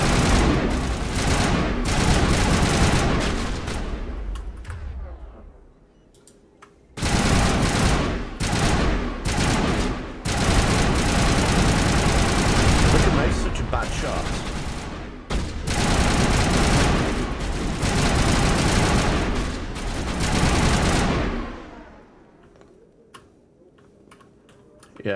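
Sustained rapid gunfire in the Mass Effect video game, long dense bursts broken by short pauses, loud and close throughout.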